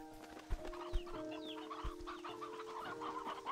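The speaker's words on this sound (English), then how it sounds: "It's a lot of chickens." Many chickens cluck and murmur in the Slime Rancher 2 video game, a busy, overlapping chorus of bird calls over steady tones of background game music, with a few thuds.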